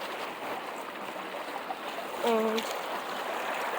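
Fresh water flows in a stream at an outdoor camping spot, a steady, soft rushing trickle throughout, with a brief voice near the middle.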